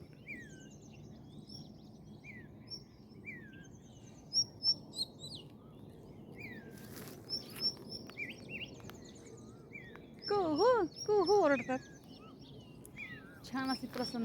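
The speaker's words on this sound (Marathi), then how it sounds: "कोकिळा पण ओरडते मध्ये मध्ये बऱ्याच पक्ष्यांचे आवाज आहेत" Birds call around a village known for peacocks, with an Asian koel among them: scattered chirps, whistles and trills near and far over a faint background hum, with a denser burst of loud, repeated calls in the latter part.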